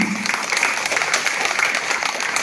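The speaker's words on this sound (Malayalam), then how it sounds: "ഈ അമ്മമാരെന്നൊരു പ്രത്യേക കൈയടി അർഹിക്കുന്നത്" An audience claps steadily and loudly throughout, in a dense, continuous round of applause at an Onam celebration gathering.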